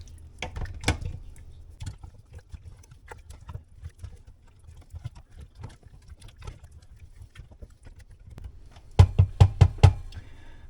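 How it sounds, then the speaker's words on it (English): Meatballs coated in grape jelly stirred with a spoon in a pot or slow cooker, giving soft wet squelches and knocks through the clip, ending in a burst of sharper, louder spoon clanks against the pot. "Now let's see what that looks like after a good stir."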